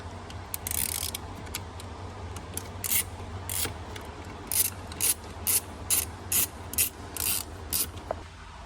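A ratchet clicks through a run of quick strokes while T15 bolts come out of a 2016 Escalade dash near the fuse block, sharp close ratcheting in short bursts with no talking.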